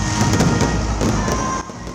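Fireworks display closing the Sinulog Grand Parade in Cebu City, a dense continuous crackle and rumble of bursts with sharp pops scattered throughout, loud and without speech.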